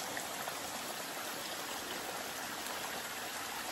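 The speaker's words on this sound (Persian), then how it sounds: "یه ذره داره آب میاد." A small stream trickling through a forest near Gorgan, a continuous even wash of running water, steady and close, with no voices.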